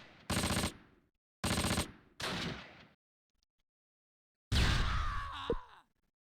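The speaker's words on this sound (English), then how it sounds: "Good hit with the cannon." Tank cannon fire in the Close Combat war game: several loud, heavy booming blasts, two sharp bursts then a rougher one, a pause, and a final longer roaring explosion with a falling whine near the end.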